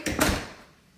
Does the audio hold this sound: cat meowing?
no